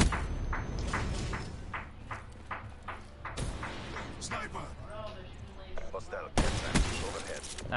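Gunfire in Call of Duty Black Ops 3 during online play: rapid bursts of shots in a rhythmic string, then sharper single cracks and a loud burst near the end, mixed with players talking over voice chat.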